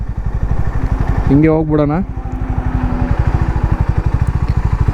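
A new Harley-Davidson X440T motorcycle thumps close by with a steady, rapid single-cylinder exhaust beat, while someone briefly speaks over it partway through.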